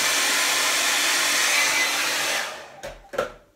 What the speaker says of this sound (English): I'm gonna flip this to low heat. No, high heat. And I'm just gonna blow dry